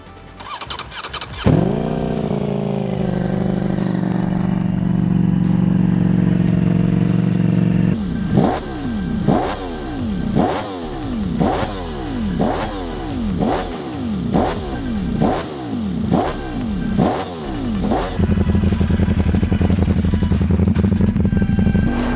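2025 Ducati Panigale V4 motorcycle cranks and fires up, idles loudly up close, then gets a rapid series of about ten sharp throttle blips before returning to a steady idle.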